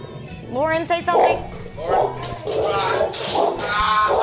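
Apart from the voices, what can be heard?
puppy barking as someone comes into the house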